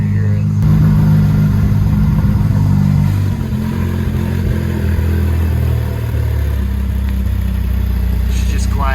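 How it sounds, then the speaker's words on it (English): Loud cold start of a Ferrari F8 supercar, a heavy low engine roar that holds steady, then settles slightly lower after about three seconds, with a faint voice at the end. "The cold start on this car is just absurd. Loud."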